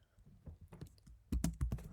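Computer keyboard typing while entering Python code, a quiet run of close key clicks that grows louder and quicker in the second half.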